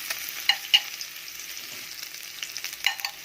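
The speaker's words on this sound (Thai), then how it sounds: "กระทะก็ใส่น้ำมันไปเล็กน้อยนะคะ ร้อนได้ที่เราก็จะใส่ สามเกลือลงไปเจียวนะคะ" Soft sizzling of a garlic, coriander root and pepper paste frying in a little hot oil, with a few sharp clinks of a utensil stirring in the pan, close and fairly quiet.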